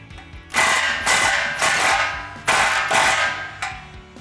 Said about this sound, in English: take a 15mm socket to tighten this down